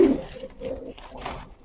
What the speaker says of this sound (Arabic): تمام، حمام كريزلي.